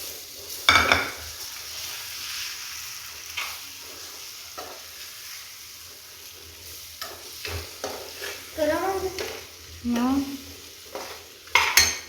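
Potatoes fry and sizzle in a pan with capsicum, with a spoon stirring and scraping in bursts against the metal; the stirring grows busier toward the end, and no one talks.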